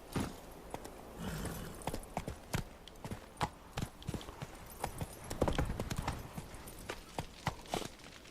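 Roach the horse's hooves clip-clop on the ground in The Witcher 3: Wild Hunt on PS4, a string of uneven, sharp hoof beats close by that continues throughout, with an occasional faint snort.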